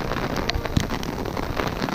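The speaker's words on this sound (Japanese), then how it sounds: "もうめちゃくちゃ雨、もうね、大雨。" Heavy rain pours down on a golf course, a dense steady hiss of drops with a few louder patters and some wind buffeting on the microphone, with no talking.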